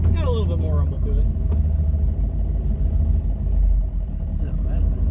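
A turbocharged truck engine rumbles low and steady from close by, while voices talk over it.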